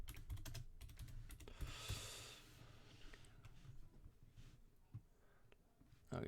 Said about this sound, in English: show you how slow I am at typing